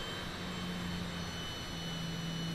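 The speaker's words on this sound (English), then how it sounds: "We're going to be taking off from runway 10L." Citation private jet engines in Microsoft Flight Simulator 2020 hold a steady, continuous whine and roar, with a sustained low hum beneath a constant high tone, unbroken and fairly quiet throughout.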